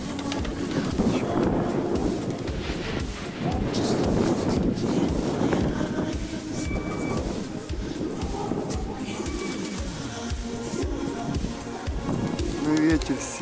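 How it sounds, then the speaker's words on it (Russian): Strong, gusty wind buffets a rooftop where pigeons are flying, roaring in uneven surges across the whole stretch with loud blasts coming and going, while someone talks throughout. "Ну, ветер сильный, порывистый."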